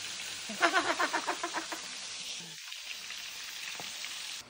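Oil hisses and crackles as fish fries in a steady sizzle, briefly louder with a run of popping bursts near the start, then settling into a continuous fry.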